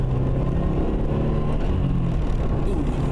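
A turbocharged car accelerates hard in third gear, a steady loud engine drone with a low rumble and whir building from start to end, heard from inside the cabin with no talking.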